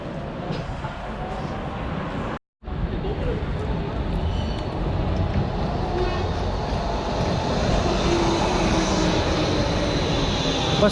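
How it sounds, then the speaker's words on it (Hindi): Train pulling into a station in Zagreb, Croatia, a steady broadband rumble of rolling wheels and motor that holds loud and close for the whole stretch, with a brief dropout early on. "बस स्टेशन जाने के लिए हमारी ट्रेन आ गई है"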